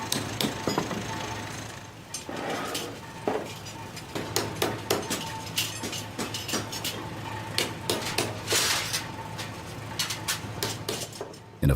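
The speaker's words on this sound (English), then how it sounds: "the knives are polished and gently tapped, correcting any minute imperfections" Gentle hammer taps on forged Japanese steel knives, a steady series of light metallic clinks and taps at close range, some ringing briefly, with no talking.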